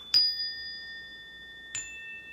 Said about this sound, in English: 3 chimes I've got here